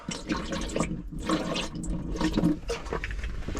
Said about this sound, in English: So I'm gonna put some antifreeze through the drainage system